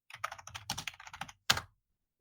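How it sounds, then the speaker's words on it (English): Computer keyboard typing in quick bursts of clicking keystrokes, a run of close taps followed by a short pause and one final burst, with no voices. "I'm gonna quickly look them up just so I can edit the clicking sound out of here."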